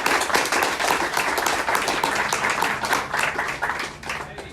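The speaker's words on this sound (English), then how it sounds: "How about one more hand of applause for Dave?" A meeting crowd applauds the speaker Dave, steady dense clapping from many hands that fills the room evenly for a few seconds, no talk over it.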